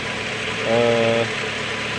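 A car engine idles just after a cold start with its thermostat removed, giving a steady close mechanical hum that briefly swells into a louder tonal drone midway before settling back.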